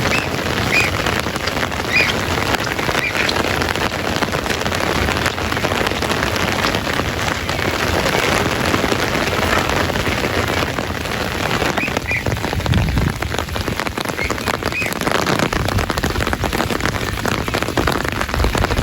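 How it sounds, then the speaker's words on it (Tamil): Heavy rain pours down steadily in Valvettithurai, Jaffna, during flooding, a loud, dense hiss of drops hitting surfaces that continues without pause. "அப்படி ஒரு மழை கொண்டு போய் இருக்குங்கள்"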